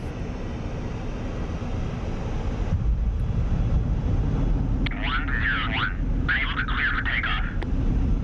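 Su-27 jet engine idling on a runway in a flight simulator game, a steady roaring drone throughout, with a radio-style voice speaking over it in the second half.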